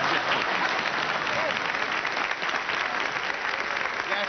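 Audience applause in a theatre setting, dense continuous clapping from a large crowd, loud and sustained throughout without pause.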